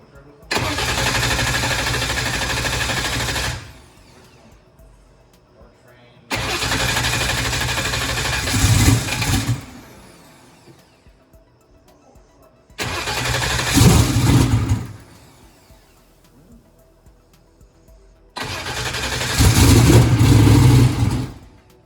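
An engine with a 118mm turbo cranks and roars to life four times on a cold start, each start followed by a few seconds of loud revving before cutting off into quiet pauses.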